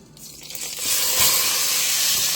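Beef pieces for bean soup sizzle in a hot pan, a bright frying hiss that swells after a quieter start and holds steady without talk.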